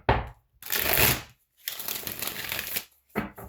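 A deck of tarot cards is shuffled close by in three quick bursts, each a dense riffling flutter, with short silences between and no talking.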